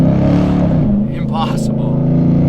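A Dodge Challenger Redeye pulling hard in first gear, its loud engine roaring and rising in pitch up close, with someone talking over it.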